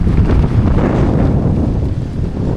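Strong Storm Darragh wind buffeting an action camera microphone, a loud, continuous low roaring rumble with gusty surges and no other sounds.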